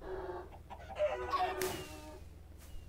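Chickens in the Minecraft video game cluck and squawk in a short burst of bird calls, moderately loud over a faint game background.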